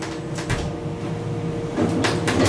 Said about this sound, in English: It takes 3 seconds for the door to open.